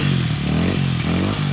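A two-stroke Honda CRF80 dirt bike engine revs hard in repeated surges as a rider attempts a wheelie, loud and close with rising and falling pitch.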